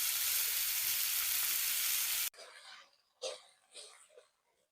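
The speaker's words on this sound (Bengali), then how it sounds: "মশলাটা ভালোভাবে কষিয়ে নেবে" Spice paste with chopped tomato frying in a pan for a soybean curry, a loud steady sizzle for about two seconds that cuts off, followed by quieter intermittent frying crackles and soft stirring bursts.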